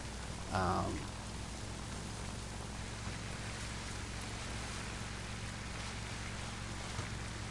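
Steady rain hisses evenly throughout in the video game Days Gone, with a brief low whoosh near the start and no voices.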